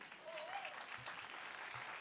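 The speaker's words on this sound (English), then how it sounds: "they say don't talk over your applause" A faint, distant audience applauds at a musical tribute show, with a soft continuous patter of clapping and a little crowd noise.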